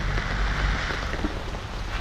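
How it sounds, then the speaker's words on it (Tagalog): Heavy rain pours down steadily around a hut on a cold day, a loud, close, continuous roar with a low rumble and no voices. "Lakas pa rin po ng ulan."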